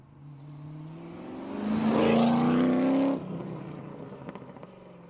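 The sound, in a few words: TVR Tamora car with Speed 6 engine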